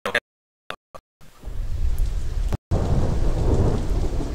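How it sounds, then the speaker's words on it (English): Heavy rain with rolling thunder, a few short sharp bursts at first and then a steady loud downpour with low rumbling underneath, broken by one brief gap. "I hear rain."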